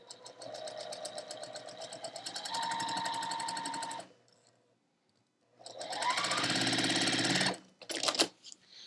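Sewing machine stitching quilt block fabric runs loud and steady for about four seconds. After a silent pause it starts up again for another long run and ends with a few short stuttering bursts.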